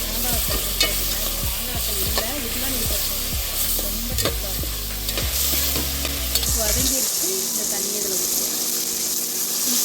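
Ingredients for Chettinad kalani mandi with thattai payiru sauté in a pan, a constant loud sizzle with repeated scraping stirs running throughout, while a voice talks over the cooking.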